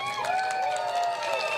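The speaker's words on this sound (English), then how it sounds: "One more round of applause for Chen Tao." Crowd applauding and cheering for Chen Tao at a PPP election rally in Yio Chu Kang Stadium, a steady dense roar with whistles and voices layered throughout, loud and continuous.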